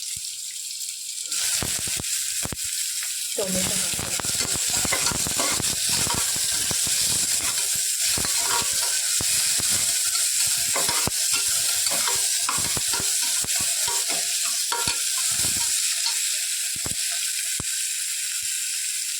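Onions and tomato frying in a pan for a village-style Sunday meat meal, a continuous bright sizzle with frequent scrapes and clatters of stirring, close up and without talk.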